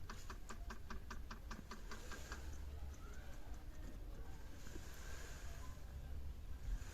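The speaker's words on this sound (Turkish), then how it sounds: "Bakın bütün motorlar sona gidip başa gelip kendi konumunu algılıyor" A quick, even run of small mechanical ticks lasts about two seconds and then gives way to a faint motor whir as a VW T5 Multivan's climate servo motors self-calibrate. The sound is quiet and close.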